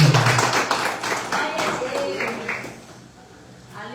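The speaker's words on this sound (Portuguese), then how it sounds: "Se puder aplaudir o nome do Senhor, pode aplaudir, porque é só Ele." A church congregation claps during a Pentecostal service, giving a short, fairly soft burst of scattered handclaps that thins out over about three seconds, with some voices underneath.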